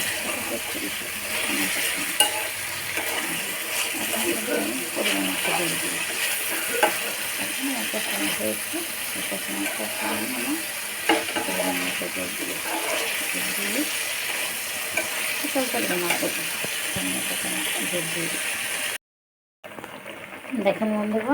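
Fish frying in a spiced masala for fish kabli, with a constant sizzle and scraping stirs against the pan under a person talking throughout, ending in a brief cut.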